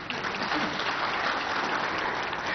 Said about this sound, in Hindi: चलो पहले तो कुशवाहा जी के लिए ताली बजाओ।